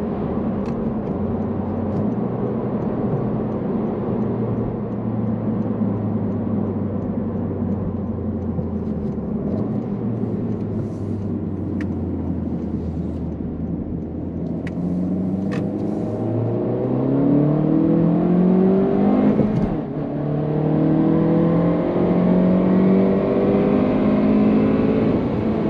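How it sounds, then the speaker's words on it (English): A car heard from inside as it drives and accelerates, its engine tone climbing in pitch through rising gears, with a steady hum of road and wind noise underneath. "There's a car coming at me."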